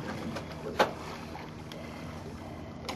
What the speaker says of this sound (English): You got another boat that's racing out.